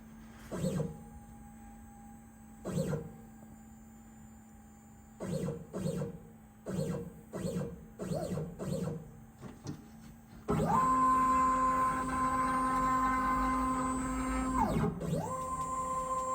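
A CNC router gantry makes several short whirring stepper moves with pauses, then a longer sustained high-pitched whine as it travels at full speed before briefly dipping and resuming, close and moderately loud.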